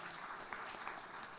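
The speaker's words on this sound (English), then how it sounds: "a big round of applause to all of you" Brief burst of audience applause from a gathering of counselors and therapists, a dense continuous patter of many hands clapping with no talk over it.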